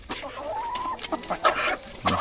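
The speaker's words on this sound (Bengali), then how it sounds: "এখানে আসলে মারামারি লেগে গেছে মুরগিগুলো এত বদমাস হচ্ছে" Several hens, including a golden-coloured hill breed, cluck and squawk in a close, agitated scuffle, with sharp overlapping calls and short bursts of squabbling throughout.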